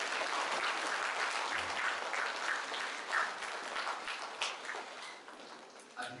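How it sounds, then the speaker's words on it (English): An audience at an indoor celebration claps together in a steady, even round of applause heard at a moderate distance, continuing without any speech over it. "may I request all of you kindly to rise and give us ovation to one round of applause."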